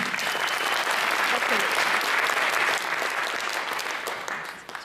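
A room full of listeners claps loudly and steadily at a young poets' audition event in Birmingham, and the applause fades a little near the end.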